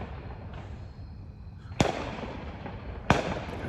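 Fireworks go off outdoors on a September night in Chicago: two sharp, loud bangs about a second apart stand out over a steady rushing background of distant crackle and rumble.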